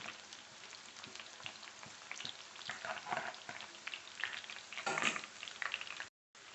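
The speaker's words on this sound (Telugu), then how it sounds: "ఆయిల్ వేడయ్యాక కాకరకాయ చిప్స్ని వేయించుకుందాం." Bitter gourd slices frying in hot oil on a stovetop, a steady bubbling sizzle with crackling bursts that swell midway and stop abruptly near the end, heard alone without talk.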